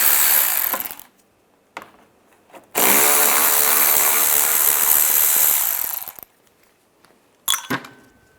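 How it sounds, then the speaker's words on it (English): A ratchet with a 10mm socket turns out screws from an underside panel on a 2014-2019 Toyota Corolla, giving a few short clicks, then a sustained loud buzzing ratcheting run of about three seconds and a brief final burst. "take these screws out. Use a 10mm socket"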